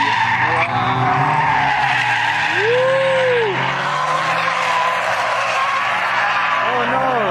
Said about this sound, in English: We're now at the drift course, the Fuji drift course, and look at all of this.